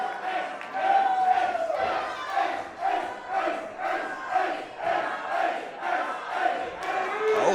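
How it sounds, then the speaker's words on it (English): A professional wrestling crowd chants for wrestler Ace Perry, a loud rhythmic group chant repeating in steady pulses about once per second, filling an arena. "Oh, listen to the crowd. They're chanting for Ace."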